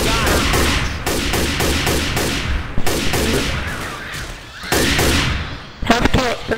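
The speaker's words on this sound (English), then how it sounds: "AK-47!" AK-47 fire in the zombie shooter Left 4 Dead comes in loud, rapid automatic bursts with short pauses between them, close and dominant throughout.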